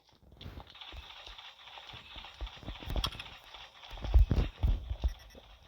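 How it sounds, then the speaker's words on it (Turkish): A horse's hooves clip-clop steadily at close range, with the strikes growing louder and more clustered toward the end, and no voices over them. "Atı."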